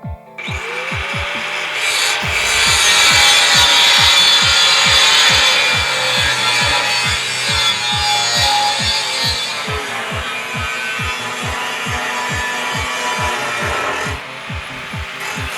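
Steel plate being cut out to form the base of a bench grinder stand, a steady harsh cutting hiss over a fast run of regular rasping strokes, loud and close throughout with no talk.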